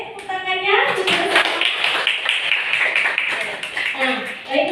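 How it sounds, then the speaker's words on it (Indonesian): At the end of a class, a group of students claps in a short burst of scattered taps mixed with voices. A person speaks over the clapping at the start and again at the end. "Oke, tepuk tangannya."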